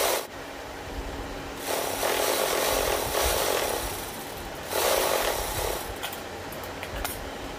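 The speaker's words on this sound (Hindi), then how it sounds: "अब किनारे से थोड़ा सा मोड़ करके सिलाई लगा लेंगे।" Sewing machine stitching the folded edge of a blouse band, two or three sustained whirring runs with brief pauses between, close and fairly loud with no talking.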